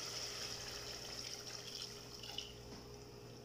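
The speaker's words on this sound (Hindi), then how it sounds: "अब मेरे पास 2 ग्लास के करीब पानी है" About two glasses of water are poured into simmering mutton masala for a turnip and mutton curry. The pour makes a faint, steady wash of liquid with a small splash near the end, and there is no talking.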